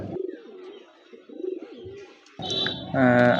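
Andhra pigeons coo in low, rolling phrases up close, a few repeated calls, followed by louder, brighter bird sounds at the end.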